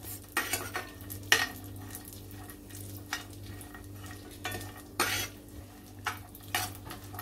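Raisins and dry fruit sautéing in ghee in a pan for pineapple suji sheera, with a gentle frying crackle under a low hum and a spoon scraping the pan in short, spaced strokes.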